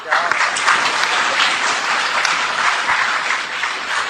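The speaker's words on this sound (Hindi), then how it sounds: "बेंचेस मत बजाइए, टेबल नहीं बजाना है, तालियां बजाना है।" An audience at a Bait Bazi verse competition in Aurangabad bangs on benches and tables in a dense, ongoing clatter, with a voice speaking over the noise.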